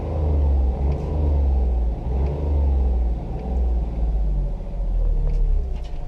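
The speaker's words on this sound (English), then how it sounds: "the engine's right here behind the seat, so I do expect it to be slightly louder than a regular car" A Smart ForTwo's rear engine, mounted just behind the seats, gives a loud, steady low rumble inside the cabin, with a slight pulsing throb that holds constant for several seconds and no talking.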